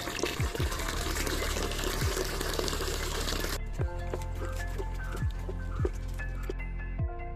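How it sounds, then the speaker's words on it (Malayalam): Diluted fresh cow dung slurry pours onto a chaya (chayamansa) plant in a gushing wash for about three seconds, then stops. Soft periodic thumps and faint background music run under it and continue afterward. "ഞാൻ കുറച്ച് പച്ച ചാണകം കലക്കി വെക്കുന്നുണ്ട് നമുക്ക് ഒഴിച്ചു കൊടുക്കാം"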